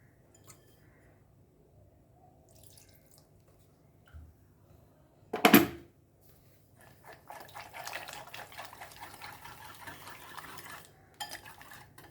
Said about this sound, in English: we'll add our water to this. Water to make a batter.